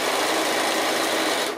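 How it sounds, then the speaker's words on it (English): A sewing machine top-stitches along the seam of a Christmas stocking, a close, steady high-speed buzz of needle strokes running continuously throughout, with no talk. "now we just need to top stitch around that seam there"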